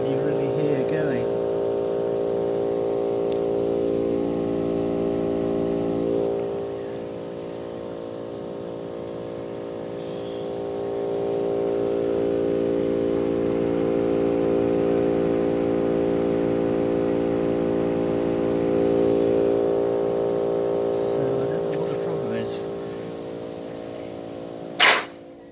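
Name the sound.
Bosch Climate 5000 air conditioner inverter unit running noisily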